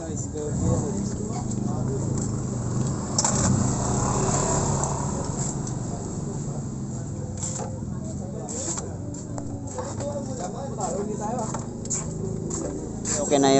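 A Suzuki Smash motorcycle idles after a drain plug repair, its small single-cylinder engine putting out a steady, rapid putter, while someone talks over it throughout.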